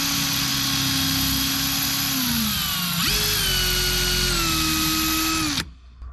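A power drill fitted with a bit-sharpening attachment whines loudly and continuously, its pitch dipping then jumping higher under load as the dull drill bit grinds, before stopping abruptly.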